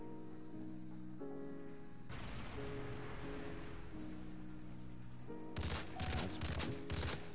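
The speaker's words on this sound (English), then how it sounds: "They have a sentry gun over LB" Rapid automatic gunfire from a sentry gun in the Call of Duty MW3 video game, heard alongside tonal game sounds, with a dense, louder burst of shots near the end.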